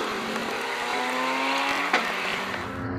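Race cars circling a rain-soaked circuit at Val de Vienne during a rally-style race in apocalyptic wet conditions, engines droning steadily with tire hiss and spray throughout, and a sharper burst as one car passes close near the end.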